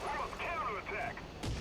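Gunfire in the War Thunder video game, with a sharp loud burst near the end while a voice talks over most of the clip.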